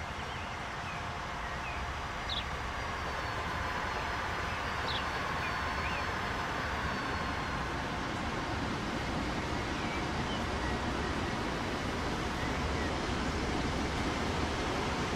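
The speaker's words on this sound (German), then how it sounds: "hier müssen wir kurz warten, bis die S-Bahn durch ist" S-Bahn train in Transport Fever 2 rolling past as a steady, fairly quiet broadband rumble and rush that holds level throughout, with faint squeals from the wheels or rails.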